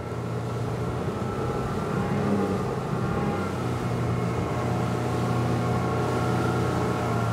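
A Saxdor 200 Sport boat's outboard engine hums steadily and loud from on board as power is increased, a constant droning roar with wind and water noise and no talk.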